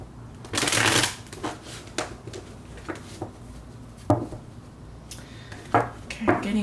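A deck of tarot cards is shuffled by hand, with several bursts of riffling and shorter flicks and taps, close and clear, with no talking.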